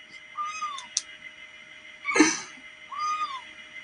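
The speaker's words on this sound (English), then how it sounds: "It's a little kitten." A little kitten meows several times, each call a short rising-then-falling cry, with a sharper sneeze-like burst in the middle; faint clicks and quiet room background, no talking.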